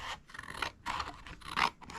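Paper being cut with scissors during a craft project, a few short close scratchy snips and scrapes in an uneven rhythm, quiet and without voices.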